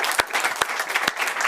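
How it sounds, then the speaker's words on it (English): Audience applause at a live stage hypnosis show, a loud, dense burst of clapping from a crowd with a few sharper individual claps standing out. "Give these people a round of applause."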